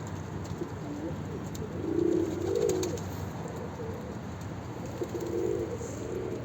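Low, soft cooing of a pigeon in heat repeats in several drawn-out phrases over a steady background hum, fairly close.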